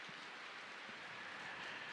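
Steady rain falls in a soft, even patter, faint and continuous for a couple of seconds with no voices over it.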